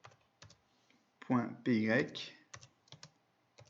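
Keys tapped in short bursts as a command is typed on a computer keyboard, with someone speaking briefly in the middle.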